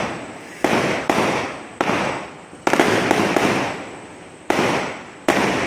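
Diwali firecrackers bursting nearby, a series of about nine sharp loud bangs at irregular intervals, each followed by a crackling, fading tail, with no talk over them.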